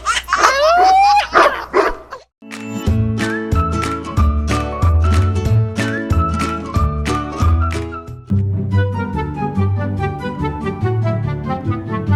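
A man imitates a dog, yipping and barking in a quick burst at the start of a Sri Lankan Tamil comedy sketch, followed by loud music with a steady beat filling the rest.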